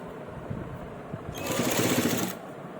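A sewing machine stitches lace onto the neckline of a shirt. There is a quiet mechanical start, then a louder, steady run of rapid stitching lasting about a second before it stops.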